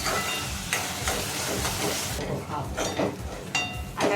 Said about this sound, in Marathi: कांदा मूसर आणि थोडा लालसर होईपर्यंत आपल्याला मिक्स करून घ्यायचे करपायला नाही द्यायचं